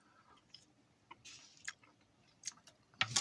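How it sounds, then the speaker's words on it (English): Close, quiet chewing of a mouthful of rice from a Latvian field ration, soft wet mouth clicks and squishes in an irregular rhythm with no talk. "That's why I'm chewing on my mouthful."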